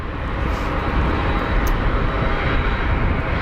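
An aircraft on final approach at Geneva Airport, its engines producing a steady, loud, broadband roar that holds level throughout with no talk over it.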